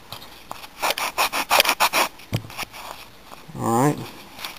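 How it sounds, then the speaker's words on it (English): A Pyramid Head prop being sanded by hand, heard as close, rapid rasping strokes in a rhythmic run, followed after a pause by a longer scraping rub. "Alright, let me sand the back so it's a little crooked."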